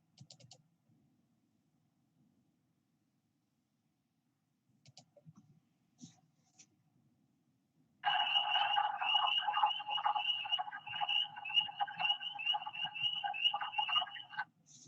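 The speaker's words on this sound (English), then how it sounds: "So the peepers, you can hear the peepers," Spring peepers and wood frogs calling together in an early-season chorus, a dense, loud, continuous mass of high peeps and clucking croaks that starts abruptly after several seconds of near silence with faint scattered sounds.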